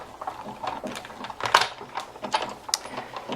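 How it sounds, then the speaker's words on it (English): A die cut machine is cranked by hand to feed an acetate card through. Close, quick ratcheting clicks and mechanical grinding rise and fall in uneven bursts, and no one speaks. "Run this back through our die cut machine."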